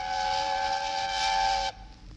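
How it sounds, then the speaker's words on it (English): A steam train whistle blows one long, steady, loud blast, then cuts off abruptly, leaving faint background noise. "Presently, he heard a whistle."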